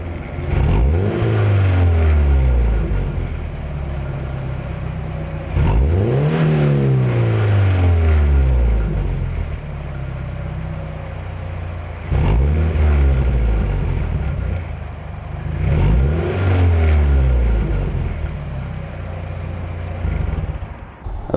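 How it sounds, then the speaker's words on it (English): Car engine fitted with an Invidia N1 exhaust silencer revving four times in a row, each loud rise in pitch falling back to a subdued idle between pulls, close by with no talk. "Let's go ahead and give it a couple revs."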